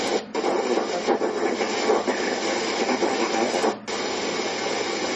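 Hissy, crackling broadband radio receiver noise from a DC to 500 kHz antenna tuned where there is almost no signal, a steady rough static with two brief dropouts and no voices.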